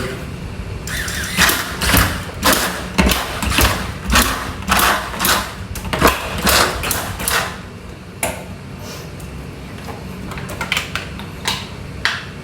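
A drinking-water bottle capping machine works in quick repeated bursts of pneumatic hiss and clack, regular at first and then more spaced out, loud and close.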